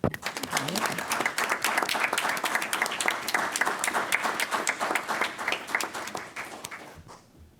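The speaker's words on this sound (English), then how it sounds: "I think he deserves a round of applause" Applause for a firefighter honored at a Los Angeles fire commission meeting, a room of clapping hands with sharp individual claps, sustained for several seconds before fading out at the end.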